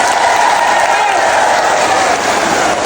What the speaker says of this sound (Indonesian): udah tepuk tangan duluan